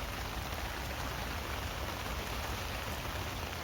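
Constant, even rainfall at a carp fishing lake patters down nearby, a dense hiss with no voices.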